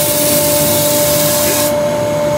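Hand sanding of a wood-turned raised bowl with 120 grit sandpaper, a steady broadband hiss that runs unbroken and fairly loud, with the lathe's constant hum beneath it.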